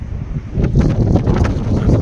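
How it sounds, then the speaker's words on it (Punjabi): Strong wind in Canada during heavy snowfall, loud gusty buffeting that roars close on the microphone, swelling after the first half second and staying rough to the end. "ਤੇਜ਼ ਹਵਾਵਾਂ ਬਹੁਤ ਤਕੜੀਆਂ ਚੱਲ ਰਹੀਆਂ"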